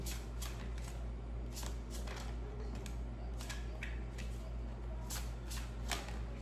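A deck of cigano fortune-telling cards is shuffled repeatedly, giving crisp riffling bursts at an irregular rhythm, close up over a steady low hum.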